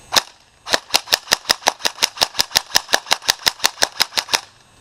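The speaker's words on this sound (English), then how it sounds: "that's the shooting test on my Custom M4" A custom Magpul airsoft M4 rifle fires a single shot and then a long, rapid, evenly spaced burst of about twenty sharp cracks, loud and close, with no talking.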